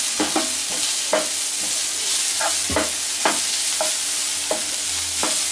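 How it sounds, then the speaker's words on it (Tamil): Homemade ginger garlic paste sautéing in hot oil in a pan for aloo bonda, a loud, steady sizzle broken by regular spatula stirs and scrapes, with no talking. "இப்போ நல்லா இஞ்சி பூண்டு வதங்கி வாசம் வருது"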